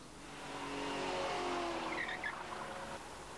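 A car drives over a crushed-stone gravel surface while its drive wheels spin and scrabble for grip, producing a steady, fairly loud tire-and-engine roar with a brief skidding squeal midway.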